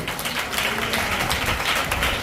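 A church congregation at a Bible study claps together in a dense, continuous patter of hands with some voices mixed in.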